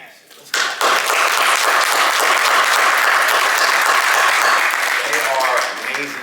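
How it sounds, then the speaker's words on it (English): Loud audience applause erupts after a short quiet opening, a thick sustained roar of many clapping hands holding steady for several seconds before easing near the end as a voice begins. "let's clap it up for Miss Maria Vasquez and Todd Hansen."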